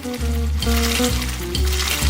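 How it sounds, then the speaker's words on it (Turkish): Pork chops and bacon sizzle and crackle loudly in a hot pan, a dense continuous frying hiss with occasional stirring scrapes. "Pirzola ve pastırmayı kızartıyoruz."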